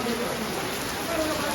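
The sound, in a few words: rain falling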